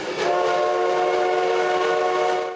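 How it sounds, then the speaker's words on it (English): A steam train, the 1880 Train, rumbles along the tracks with a sustained, tonal horn-like drone held steady for a couple of seconds before fading. "all aboard the 1880 train"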